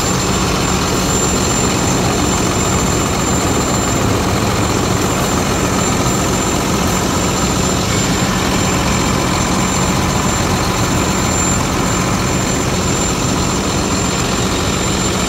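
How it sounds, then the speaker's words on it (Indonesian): A steady, loud engine drone runs throughout without change, a constant mechanical rumble of a Hino FG260 JS truck's common-rail Euro 4 diesel idling up close. "Suara engine-nya lebih smooth ya teman-teman ya, lebih bertenaga."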